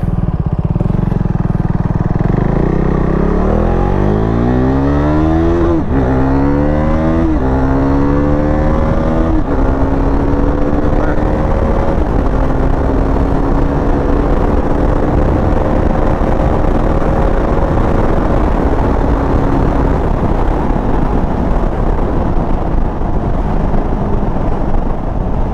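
An RC390 motorcycle accelerates hard toward 100 km/h, its engine note climbing through several upshifts and then holding a high steady drone, loud and close with constant wind buffeting throughout.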